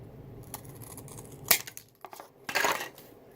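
Scissors snip through material for a homemade beach chair, giving a few sharp crisp cuts, with the loudest ones near the middle and end. No one speaks.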